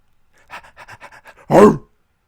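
A dog panting close by in a quick run of short, breathy huffs, followed by one louder, fuller exhalation or whine-like breath at the end, with no talking.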